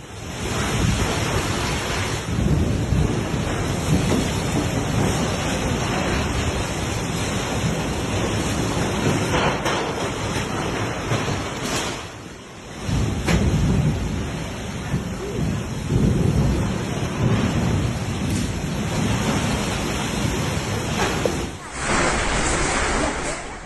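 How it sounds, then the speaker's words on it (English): A fierce storm batters a street in Malaysia, roaring continuously, heavy rain pounding and strong wind gusting, loud and unbroken, with a brief lull partway through. "roaring winds and heavy rain battering a street in Malaysia in a truly intense scene"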